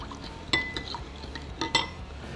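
Fajita marinade being stirred in a bowl: a few sharp clinks of a utensil against the bowl over soft scraping and swishing, close and fairly quiet, with no talking.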